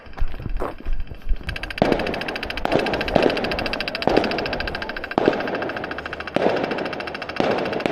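Rapid bursts of sharp cracking explosions, like fireworks going off in quick crackling volleys, loud and continuous with brief pauses between clusters.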